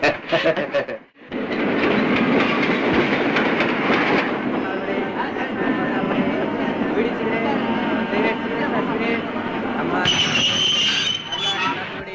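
A train runs along railway tracks in a Tamil film comedy scene: a loud, steady rumble with rattling clatter that fills the whole stretch, with voices mixed in.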